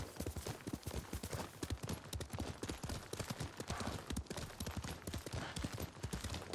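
Horse hooves clip-clopping in the video game Ghost of Tsushima, a continuous, fast, even trotting rhythm that stays loud and close throughout with no talk over it.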